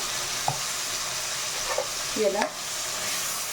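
Stuffed eggplant masala with chopped tomato frying in a pan, a steady low sizzle with a few brief stirring scrapes, while someone speaks briefly over it.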